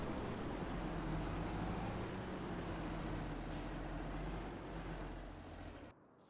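Heavy tractor engine droning steadily in Farming Simulator 25, a loud continuous low rumble that holds for several seconds before cutting off abruptly near the end.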